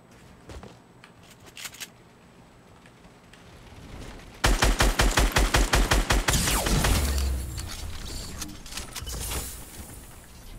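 Assault rifle fire in Fortnite: after scattered faint clicks and footsteps, a loud rapid burst of evenly spaced shots lasts about two seconds, followed by lingering game noise.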